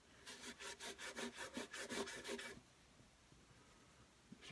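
A cloth rubbing back and forth over the wooden body of a viola, about a dozen quick rhythmic close strokes that then stop, followed by quiet.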